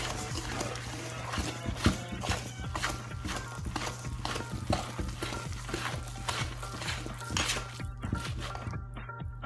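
Oil is whisked in a mixing bowl for carrot cake batter, the whisk making quick, steady, evenly spaced strokes at close range over a constant low background hum.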